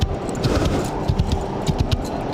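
Horse hooves clip-clop at a walking pace in the VR racing game Rival Stars Horse Racing, steady close footfalls repeating over a low ambient bed, with no talk.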